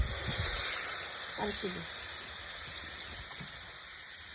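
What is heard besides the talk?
water poured into hot fish curry masala, hissing and steaming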